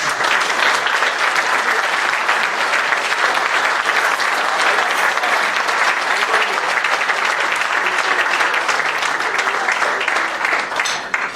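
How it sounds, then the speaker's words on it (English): A crowd of racing drivers applauds their team owners at a gathering, dense, loud clapping that stays steady and unbroken from start to finish before tapering slightly at the very end. "I'd like all the drivers here to give them a round of applause"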